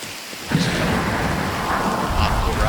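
A thunderstorm in the video game Prologue: Go Wayward: a loud rolling thunder rumble breaks in over steady, dense rainfall and continues to the end.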